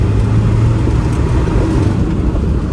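A rebuilt, turbocharged Land Rover Defender 90 engine idles steadily at close range, a continuous low rumble with no voices over it.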